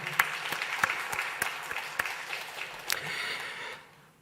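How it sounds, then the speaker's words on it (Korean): A congregation claps during a Sunday church service, giving a steady round of applause from a room full of people that fades out near the end. "하나님께 영광의 박수 올려드립니다"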